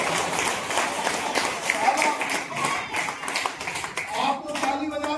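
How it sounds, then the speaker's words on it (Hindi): An audience at a talk claps in a steady, lively patter of many hands throughout, with a speaker's voice continuing over the applause. "आप तो ताली बजा रहे हो"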